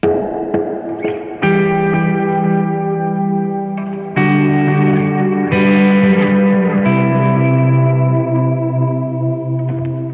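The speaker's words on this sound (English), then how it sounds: "We're going to go over to tremolo. We're going to turn on reverb." Electric guitar chords through tremolo and reverb pedals ring out with a wavering tremolo pulse and spacious reverb tails, several strummed chords sustaining one after another with no voices.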